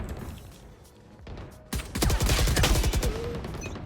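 Rapid gunfire in the shooter game Valorant, a dense burst of loud overlapping shots that starts abruptly after a quieter stretch and keeps going to the end, with no voices.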